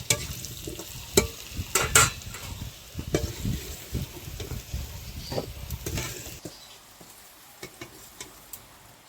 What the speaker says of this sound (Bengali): আলুটা আমার লাল লাল করে ভাজা হয়ে গেছে এখন তুলে নেব